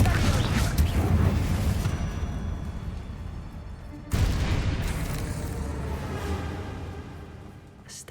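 A Confringo fire-spell blast in Hogwarts Legacy, a heavy boom that decays over several seconds, then a second sudden explosion that rumbles and fades, with a little speech faintly present.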